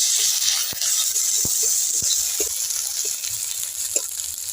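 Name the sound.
frying ginger garlic paste in a pan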